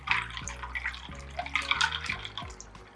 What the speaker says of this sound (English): First, fill a large bowl with ice water.